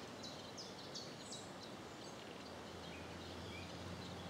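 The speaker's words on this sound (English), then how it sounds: "Chiff chaff." Faint, repeated high chirping chiffchaff notes sound at a distance over a steady outdoor hiss and low background rumble, near Blakeney in Norfolk.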